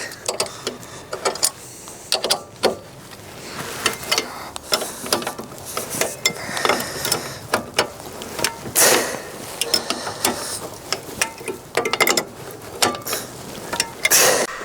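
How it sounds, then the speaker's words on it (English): A ratchet tightens carriage bolts on a 2003-2008 Toyota Corolla rear wheel bearing job, sped up into rapid, loud clicking bursts that repeat in quick clusters with short gaps between. "Essentially, I would tighten each carriage bolt 4 to 5 times, and then I would move back to the other carriage bolt"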